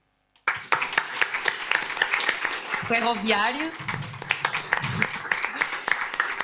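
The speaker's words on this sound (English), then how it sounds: "I would like a round of applause for each one of them" An event audience claps in a sustained round of applause for the event's partners, starting abruptly after a brief silence. Someone speaks loudly over the clapping.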